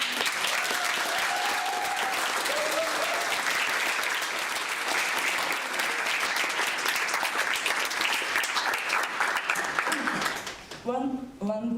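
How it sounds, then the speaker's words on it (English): Sustained applause from a large audience at a national assembly gathering in Düsseldorf, dense and steady for about ten seconds before thinning out, after which a voice begins speaking. "One biggest applause for MD"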